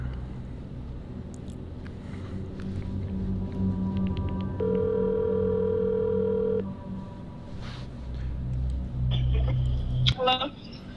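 A telephone call goes out with a sustained steady tone for a couple of seconds, followed by short ringback beeps over background noise, with a voice heard near the end.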